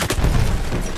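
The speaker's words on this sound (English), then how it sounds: "Oh, mortar." A mortar shell explodes on the Suez map in Battlefield 1, a loud, close, heavy boom with a deep rumbling body filling the whole second.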